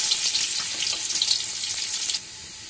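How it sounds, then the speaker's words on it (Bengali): Chopped onions, about half a cup, sizzle steadily in hot oil with cardamom, bay leaf and cinnamon while frying until reddish brown; a loud, continuous close-up hiss with no talk. "আর দিব হাফ কাপ পেঁয়াজ কুচি দিয়ে এগুলো লালচে করে ভেজে নিই।"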